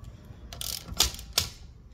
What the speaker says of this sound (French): Toujours un cliquet long, comme ça.